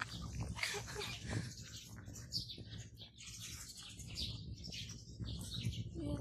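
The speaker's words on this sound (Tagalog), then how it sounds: "Naririnig niyo ba yung birds?" Birds chirp outside the Fort Pilar museum in quick, scattered high calls over a busy outdoor background with other animal and ambient noise, moderately faint.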